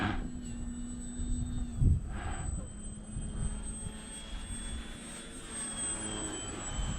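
Ranger 1220mm RC plane climbing out after takeoff, its electric motor giving a steady buzzing whine heard from a distance, with wind buffeting the microphone and a brief gust thump early on.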